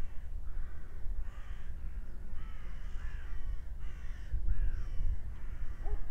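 Outdoors, crows caw repeatedly in short harsh bursts at a moderate distance over a low background rumble, with no speech.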